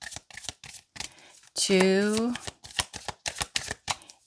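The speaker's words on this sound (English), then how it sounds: "I'll do 3 shuffles, Spirit." Tarot cards are shuffled by hand in quick, crisp riffling bursts that repeat in a steady rhythm, while someone speaks briefly over them.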